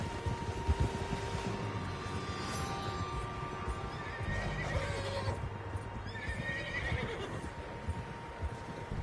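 Several horses in Red Dead Redemption 2 whinny and snort near a lakeside camp, with a couple of long neighs over a steady bed of hoof clopping and shifting outdoor noise.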